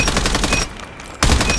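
Rapid automatic fire from the FR556 assault rifle in a first-person shooter video game, two loud bursts of fast repeated shots separated by a short pause.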